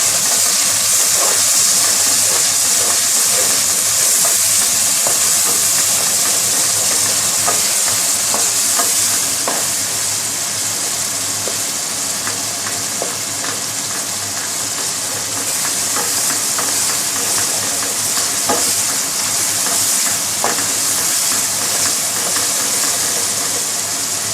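Red chili paste and spices fry in a pan for a potato and capsicum dish, a loud, continuous sizzle broken by frequent spoon scrapes as the mixture is stirred, with no talk.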